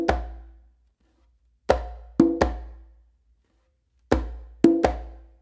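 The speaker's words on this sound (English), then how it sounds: "Then I go back and do a closed palm slap with my non-dominant hand on the conga." Conga merengue pattern: sharp hand strikes in an uneven rhythm, a pair of quick hits then a single, repeating after a pause, each closed palm slap and open tone ringing briefly, close and loud with no talking.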